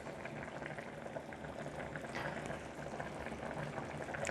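Steady bubbling and rolling of boiling water with chicken balls cooking for soup fills the clip, a dense continuous simmer with small pops, close and moderately quiet.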